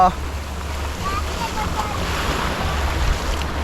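Sea waves wash onto the beach at Digha in West Bengal, a steady rushing surf with wind buffeting the microphone, moderately loud and continuous with no voices.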